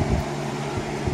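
A Traxxas Rustler RC car's ESC cooling fan gives off a steady, faint whirring hum with a low drone, heard alone and close.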